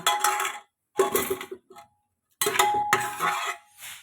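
A spoon works through milk caramel payesh in a cooking pot, making bursts of metallic scraping and clinking against the pot's sides, separated by short silent pauses.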